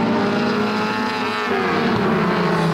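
Mini stock race cars race at Flamboro Speedway, several engines droning together at high revs with shifting, overlapping pitches as the pack runs past.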